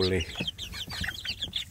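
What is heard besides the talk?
village chicken chicks clucking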